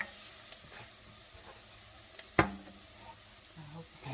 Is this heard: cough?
no